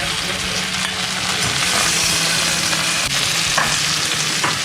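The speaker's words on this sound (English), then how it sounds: "we've been shallow frying the fish for a while" Parrotfish fillets shallow frying in hot oil give a steady, dense, loud sizzle that fills the whole stretch close up, with faint clinks of stirring and no talking.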